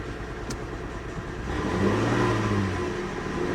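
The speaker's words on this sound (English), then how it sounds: "See how she runs. She's misfiring." A misfiring 2017 Nissan Titan engine idles roughly up close, its uneven running swelling louder partway through with a low, lumpy throb.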